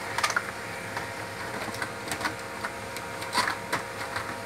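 An HP LaserJet P2055 laser printer running a test page: a steady, quiet mechanical whir with faint clicks and ticks scattered through it, heard alone without talk.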